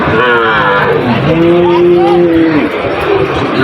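Bullock cattle at a busy livestock market, one animal giving a long, loud, close moo that bends in pitch, over a dense background of crowd chatter and voices.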